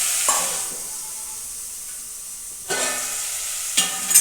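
Mustard seeds, asafoetida and curry leaves sizzling in hot oil on a gas stove for a tomato curry: a steady, close frying hiss rises in sharp crackling surges near the start and twice more toward the end.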